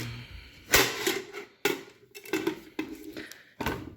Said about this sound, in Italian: Metto il coperchio